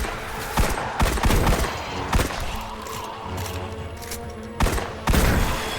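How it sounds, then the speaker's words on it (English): Rapid bursts of gunfire from the first-person shooter video game Destiny, with sharp shots at irregular intervals over a dense, continuous battle din, no voices. "now you play the game in a first-person perspective and shoot and kill whatever your contract said to"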